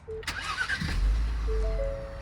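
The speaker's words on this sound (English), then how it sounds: "Starting up the vehicle." A Ford Explorer SUV (sixth generation) engine cranks briefly and catches, then settles into a low steady idle, close by.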